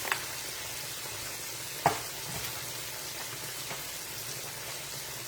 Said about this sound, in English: if you're frying fish